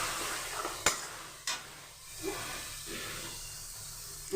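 Onion and bay leaf fry gently in ghee or butter in a pan, a soft steady sizzle with a few sharp clinks of a utensil against the pan and light stirring scrapes.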